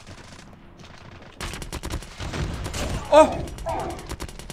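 Rapid automatic fire from a deployed sentry gun in the Call of Duty Mobile video game, bursting in loud sustained volleys alongside other in-game gunfire, with a player exclaiming briefly.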